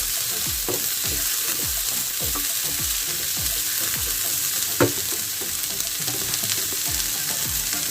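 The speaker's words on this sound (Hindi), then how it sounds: "इसमें ये सारी वेजीज हम डाल देंगे। इसको हाई फ्लेम पे सबको सौटे करना है।" Vegetables sautéing on high flame for a cheesy pizza burger, a constant loud sizzle with repeated scraping stirs of a spatula in the pan and one sharper knock, no talking.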